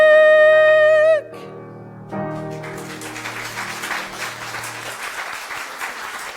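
A sustained musical chord ends abruptly, and after a brief lull an audience at a guest speaker's talk breaks into broad applause, with a low tone lingering underneath.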